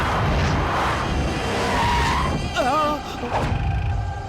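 Car tires skid and screech as a vehicle swings around during an action chase, a broad noisy rush with a rising squeal near the end, under shouted voices and loud dramatic score.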